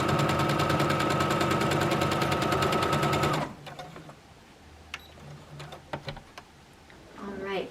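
A sewing machine runs fast and steady as quilt pieces are stitched together, then stops partway through, leaving quiet fabric handling, soft clicks and a little speech.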